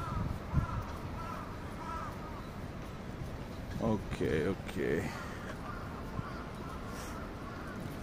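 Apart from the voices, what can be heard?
crows cawing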